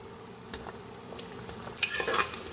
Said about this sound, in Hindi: उसी घी में मैं ये गाजर डाल रही हूँ